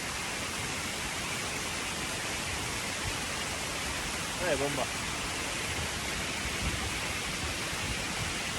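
A waterfall heard up close as a dense, loud, unbroken roar of rushing water, with a voice briefly speaking over it.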